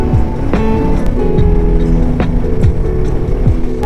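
A Royal Enfield Himalayan 450 motorcycle cruises along a highway, its engine a steady loud drone with wind rush, punctuated by a few brief rising and falling whooshes from passing traffic.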